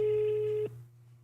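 Telephone ring tone sounding as an AI voice agent forwards a caller to a live person: a steady electronic tone, loud and alone, which cuts off partway through and leaves a faint hum.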